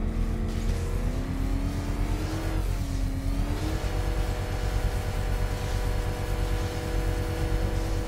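A car engine in a video game revs and accelerates, a loud continuous drone with its pitch rising and dipping early, then holding steady.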